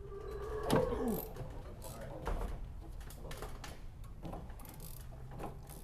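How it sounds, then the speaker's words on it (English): A wrench works the top shock nut on a 2022 Toyota Tundra, giving a series of close metallic clicks and ratcheting scrapes, with a sharp clank early on and scattered softer knocks afterward. "there's a little square notch that you can use a crescent wrench to hold it while you take out the nut"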